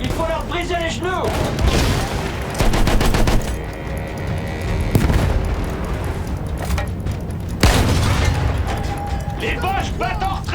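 Sustained suppressive gunfire in a Battlefield 1 First World War battle, with rapid machine-gun bursts, rifle shots and heavy booms layered over a dense, loud battlefield din, while voices speak through it.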